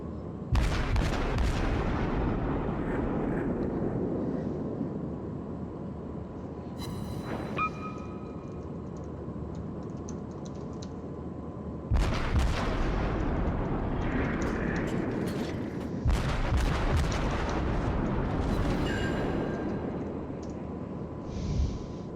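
Heavy naval guns on a warship fire in World of Warships, sending out deep booming blasts that rumble on, with two big salvos and one smaller one, loud and close, and no talking.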